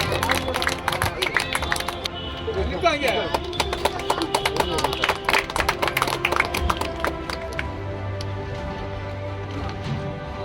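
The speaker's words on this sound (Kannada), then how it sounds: "ದಯಮಾಡಿ ಜೋರಾಗಿ ಚಪ್ಪಾಳೆ ತಟ್ಟಿ ಪ್ರೋತ್ಸಾಹಿಸಬೇಕಂತ ಈ ಮೂಲಕ ಕೋರ್ಕೊಳ್ತೀನಿ" A crowd applauds prize winners at a state-level dairy cow milk-yield contest: brisk, scattered clapping for about seven seconds that then tapers off, under an announcer speaking over a loudspeaker.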